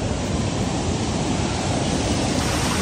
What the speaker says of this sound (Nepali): त्यो झरनाबाट खसेको पानी कत्रो ठुलो है निलो आएको पानी छ